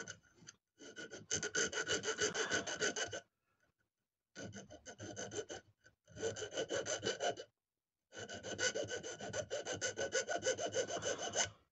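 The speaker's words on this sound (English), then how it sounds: "all I'm doing is filing off into a nice hoop" Hand file rasping down freshly soldered metal on an Italeri 1/35 S100 Schnellboot model being converted to radio control, in three long runs of quick, steady strokes separated by short silent pauses.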